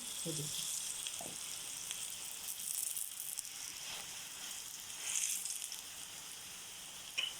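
An aloo paratha sizzles steadily in ghee on a non-stick tawa, a continuous hissing fry that stays fairly even, with a couple of soft handling knocks near the start.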